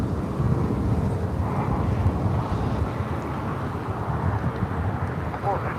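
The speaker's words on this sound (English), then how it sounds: "This is Spirit Airlines 3103 taking off to Atlanta on an" A Spirit Airlines Airbus A319 takes off at LAX, giving a steady, loud broadband roar that holds for the whole stretch, with muffled voices faintly underneath.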